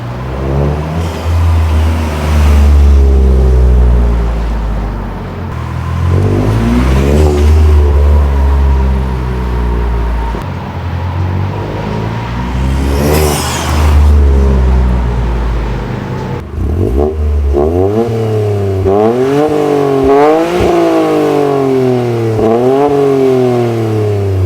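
Toyota GR Corolla fitted with an MST Performance V2 intake revving loudly, heard from outside with the hood closed, with repeated rising and falling engine sweeps, then a steadier run of quick gear-linked climbs and drops near the end.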